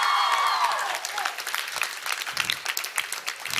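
A crowd at the Mangalore Dasara cultural program applauds after a dance performance, a loud burst of hand claps that tapers into lighter, scattered clapping while voices murmur underneath.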